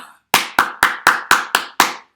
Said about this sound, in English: Don't clap this one back